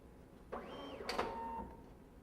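A photobook binding machine binding a book gives off a short mechanical sequence: a whirring sweep, a sharp clack and a brief buzzing motor, all close and fairly faint.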